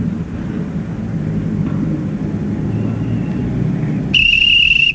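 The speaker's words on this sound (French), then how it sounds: "Alors, coup de sifflet." Police whistle blown once near the end, a shrill sustained blast cutting over a dull low rumble of background noise.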